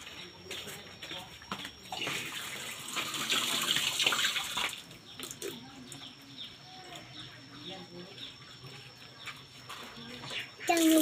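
Water running from a tap while sliced mango is washed, a soft continuous splashing that swells midway, with people talking over it and a bird faintly in the background.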